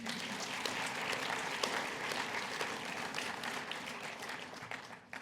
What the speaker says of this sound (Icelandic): Og þið megi klappa fyrir þeim.